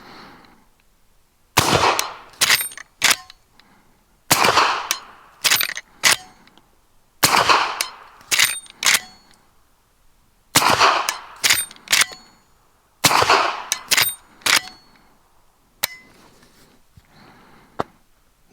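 Subsonic .45-70 rifle rounds fire outdoors in five loud, sharp reports, each followed by metallic clangs of the bullet striking a steel target, with pauses of a few seconds between shots.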